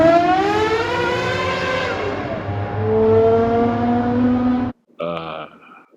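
A Gordon Murray T.50 supercar's high-revving engine shrieks through a tunnel, climbing in pitch with a loud, echoing wail that holds for several seconds before cutting off abruptly, followed by a brief rougher burst.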